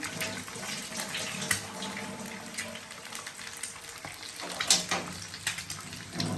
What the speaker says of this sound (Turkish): Şimdi ellerimi yıkayayım.